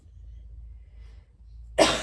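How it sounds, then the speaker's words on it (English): A single sharp cough bursts out near the end after quiet room tone, close and loud. "Coughing!"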